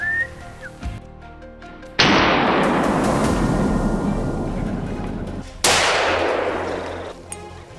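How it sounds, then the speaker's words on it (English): A loud gunshot aimed at a wild boar during a Louisiana hog hunt cracks out and booms into a long rolling echo, followed by a second blast that decays the same way, outdoors with no talking. "This time, we let Alicia, the only woman in our group, take the shot."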